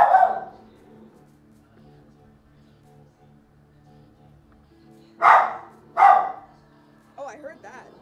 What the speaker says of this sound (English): My dog is losing her mind while on stream.